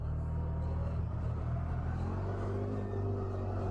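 A CFMOTO ZForce 1000 side-by-side, a 1000cc unit in four-wheel drive, grinds through thick mud with a steady low engine rumble and drivetrain drone that hold even and continuous throughout, with no talk over them.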